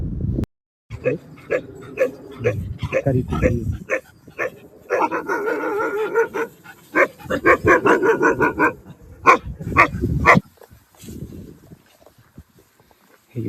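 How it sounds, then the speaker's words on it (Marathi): Several hunting dogs bark and yip in quick irregular bursts, fairly close, on a road across a flat plateau, with a few whimpering cries and brief gaps of quiet between the volleys. "शिकारी कुत्रे दिसले आम्हाला रस्त्यात"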